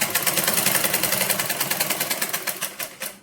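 A sewing machine runs fast and close, stitching a blouse with a continuous rapid mechanical chatter that slows into separate thumps near the end.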